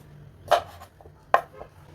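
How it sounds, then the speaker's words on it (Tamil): Two sharp knife chops through raw sweet potato on a board, spaced about a second apart, close and crisp with quiet room hum between strokes. "இப்போ வந்து கட் பண்ணி எடுத்துக்கலாம்"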